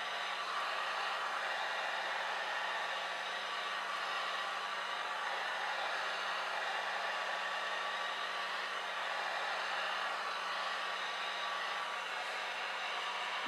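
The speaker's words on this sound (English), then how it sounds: "And then again you can start drying." Hair dryer blowing on alcohol ink art, a steady, loud, close broadband whoosh that runs unbroken for the whole stretch with no talking over it.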